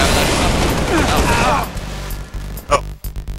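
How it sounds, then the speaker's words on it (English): Shotgun blasts in a video game burst out loud and close in the first second and a half, then fade into scattered smaller booms and clicks against game noise. "Shotgun, out of that shotgun."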